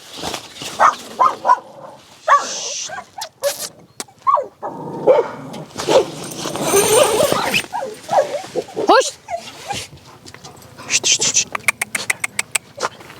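Kangal dogs bark repeatedly near a tent camp in a remote forest, loud, close and irregular, mixed with people talking and shushing.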